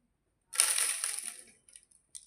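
Water can with salt inside shaken hard, a burst of gritty rattling and sloshing for about a second, then a few short sharp clinks and taps trailing off, close and alone.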